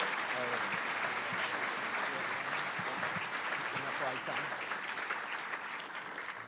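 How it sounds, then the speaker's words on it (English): An audience at a spring college graduation ceremony applauds animal science graduates, steady clapping that fills the hall, with faint voices underneath as it slowly fades. "Let's give a round of applause to all of our animal science graduates."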